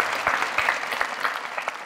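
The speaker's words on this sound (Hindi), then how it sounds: "भरपूर तालियों में मेरे मेहमानों का इस्तकबाल करें।" Studio audience applause on a comedy talk show as guests are welcomed, a short burst of dense, steady clapping from a crowd.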